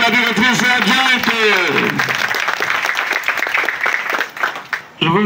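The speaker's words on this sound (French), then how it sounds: "On applaudit pour la directrice adjointe." An audience at a political talk on a constitutional referendum applauds for a deputy director, a clatter of many hands clapping together, with a speaker's voice heard over the start before the applause trails off near the end.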